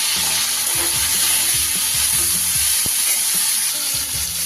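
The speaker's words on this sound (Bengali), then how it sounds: "এবার আমি একটা বড় সাইজের টমেটোকে কুচো করে রেখেছি সেটা দিয়ে দিলাম।" Chopped tomato hits potatoes already frying in a pan for a banana flower curry, setting off a loud, continuous close-up sizzle with a few low knocks of stirring underneath.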